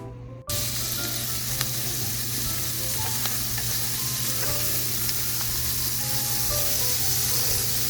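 Food frying in bacon grease in a pan, a loud dense sizzle that starts abruptly and holds steady, close, with scattered small pops and crackles.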